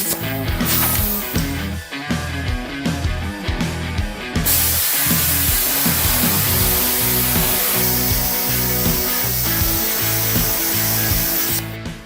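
A cut-off wheel grinds through steel for a chimenea fire pit, a loud, harsh, continuous hissing roar close by that stutters briefly early on, then runs steadily before stopping at the end.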